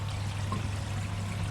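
Water pours steadily over algae-drenched filter floss in a garden pond filter, a continuous close trickle and rush against a low hum.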